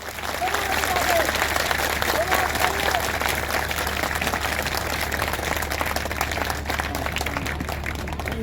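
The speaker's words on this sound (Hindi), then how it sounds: "मैं चाहता हूं आपकी तरफ से जोरदार ताली होनी चाहिए" An audience at a spoken lecture gathering breaks into loud, sustained applause, a thick continuous roar of clapping hands that holds steady from start to finish without letting up.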